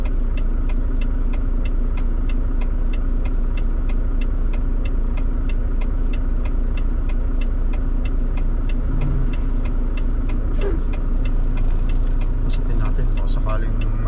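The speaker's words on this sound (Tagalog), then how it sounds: "So nga lang, matraffic, grabe." Cars and other vehicles crawl through heavy road traffic, with a steady, loud engine drone and idling rumble that continue close by for the whole stretch.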